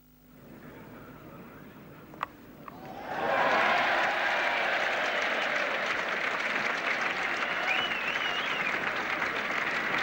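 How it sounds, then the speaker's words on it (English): A cricket crowd at an England versus New Zealand Test match in 1978 breaks into sustained applause and cheering for a fine stroke, swelling suddenly after a quiet moment and holding at a broad, distant roar. "And quite deservedly, that got a cheer."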